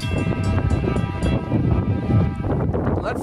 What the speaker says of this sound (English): We have a tank train going to be coming into Plant City.